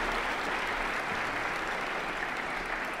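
An audience at a city's State of the City address gives a continuous, even round of applause, dense and sustained throughout with no voices on top.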